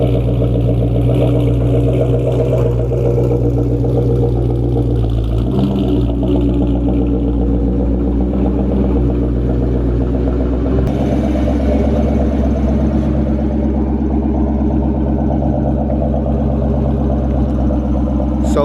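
A Ford Mustang Mach engine idles and runs smoothly with no knocking, a loud steady low rumble close by with slight rises in pitch.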